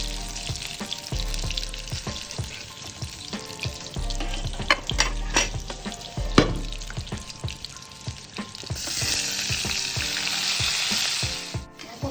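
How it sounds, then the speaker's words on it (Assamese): Jackfruit pieces fry in hot oil in a pan, giving a steady, close crackling sizzle with intermittent stirring clatter, and the hiss swells louder and smoother toward the end. "কঁঠালখিনি এতিয়া ভাজা হৈ গ'ল"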